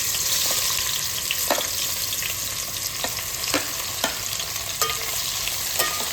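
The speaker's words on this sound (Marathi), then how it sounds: "आता गरम गरम तेलामध्ये आपण मस्तपैकी चिरलेला कांदा टाकून घेऊ." Chopped onion sizzling in hot groundnut oil for a dried prawn biryani, a dense continuous hiss up close, broken by several sharp taps and scrapes of a ladle stirring in the pan.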